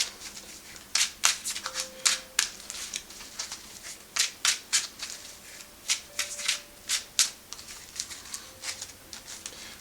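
A deck of cards is shuffled repeatedly up close, with quick riffling bursts and soft papery slaps coming in uneven clusters.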